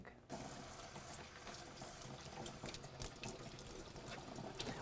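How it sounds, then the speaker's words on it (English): Leeks being washed under running sink water, with a continuous faint rush and splash of tap water after a brief quieter start and no talking. "And now we go the sink and we wash everything."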